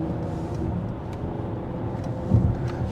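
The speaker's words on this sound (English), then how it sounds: "there is some wind noise that traps through this windshield" Steady low rumble of road and wind noise inside a moving 2024 Mercedes GLE 53 AMG Coupe, wind coming through the windshield, constant and fairly loud, with no one speaking.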